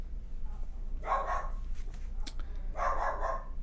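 A dog barks outside a window in a quiet residential area where people walk their dogs, two short bursts of barking a couple of seconds apart over a steady low hum.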